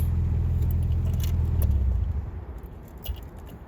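The engine of a 1968 MGB idles with a low rumble, then cuts off about two seconds in, leaving quiet ticks, jingling keys and small rattles.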